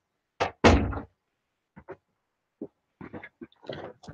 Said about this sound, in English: Forgot to close my door.